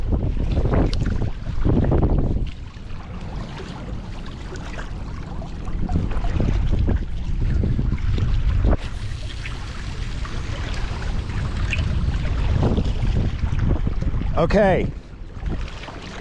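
Heavy wind gusting across the winter Mississippi River during catfish casting, buffeting the microphone in loud rumbling bursts, with a person speaking briefly and a short whirring of a reel near the end.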